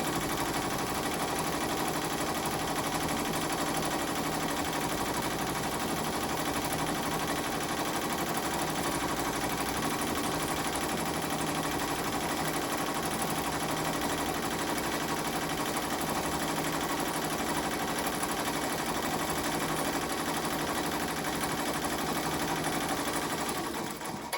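An embroidery machine stitches an in-the-hoop pot holder, its steady mechanical whir and needle chatter running loud and continuous throughout with no talking.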